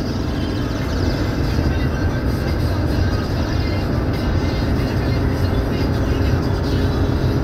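A Toyota Coaster bus engine with a 6-speed manual gearbox runs steadily as a loud, continuous low drone with road and cabin rumble throughout, with no breaks in the sound.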